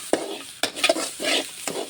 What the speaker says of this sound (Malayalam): വെളുത്തുള്ളി കുറച്ച് വേഗമല്ലോ വറുത്ത് വരുമല്ലോ